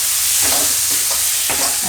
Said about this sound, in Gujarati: હવે આને મિક્સ કરીને તરત ટમેટાં નાખી દેવું આપણે